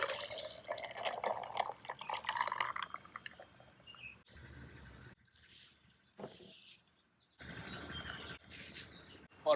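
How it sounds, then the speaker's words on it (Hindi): Falsa sharbat is poured over ice in a glass, giving trickling, splashing liquid and light clinks in several short bursts separated by brief quiet gaps, fairly close and soft. "इसके अंदर जाएगी आइस और इसमें अब मैं डालूंगा हमारा ये शरबत।"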